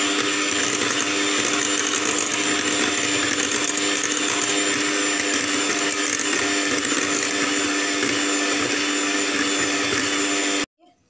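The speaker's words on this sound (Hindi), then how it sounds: "इन्हें अब मैं अच्छे से बीट कर लूँगी।" An electric hand mixer beats brownie batter of cocoa powder, vanilla essence, baking powder, four eggs and sugar, giving a steady loud motor whine that runs unbroken for about ten seconds, then cuts off.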